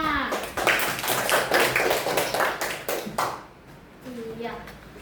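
Children in a classroom clap for a classmate, a dense run of quick overlapping hand claps filling the first few seconds, then fading as a voice speaks.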